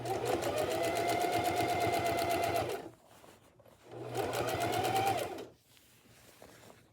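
A sewing machine stitches elastic waist shorts in two long, steady bursts of rapid needle chatter, separated by a brief pause while the fabric is folded and guided, close and fairly loud with no talking.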